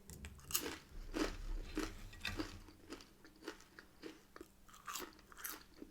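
Crunchy chips from a Chinese takeaway being chewed close up, with a steady series of soft crunches and bites at an irregular pace, quiet and with no talking.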